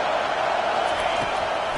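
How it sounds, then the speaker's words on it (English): Football stadium crowd at an Irish vs Buckeyes game, roaring steadily as the defense lines up on third down, a dense continuous wash of cheering with no clear break. "Decibels rising as the crowd gets behind this defense on 3rd down."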